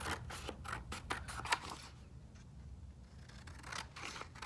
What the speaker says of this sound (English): so now I've cut my Christmas tree